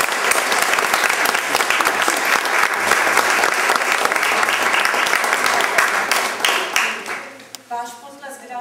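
A concert audience applauding, dense sustained clapping from a sizeable crowd that holds steady and then fades out toward the end, with a voice starting to speak as it dies away.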